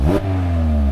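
A 2016 Mazda MX-5 Miata's 2-liter four-cylinder engine gives a short rev: a quick rising burst that drops back to a steady, fairly loud idle hum.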